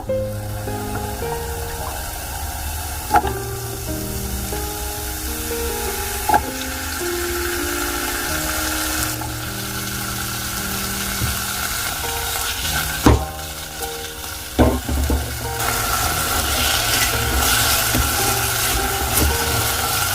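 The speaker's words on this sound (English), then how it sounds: "First I will do shallow fry potatoes." Potatoes shallow-fry in oil with a steady close sizzle for the whole stretch, with a few sharp knocks of a utensil against the pan and soft music underneath.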